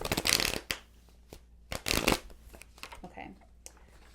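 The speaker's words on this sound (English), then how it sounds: "that's enough of shuffling" Tarot cards are shuffled by hand in a few quick riffling bursts separated by short pauses, close and crisp, with brief quiet rustles in between.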